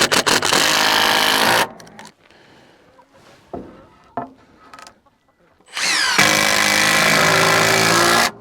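A power driver sinks a screw into a 2x4 board on a chicken tractor build: a loud, steady whirring burst, a quiet pause with faint knocks, then a second long whirring run.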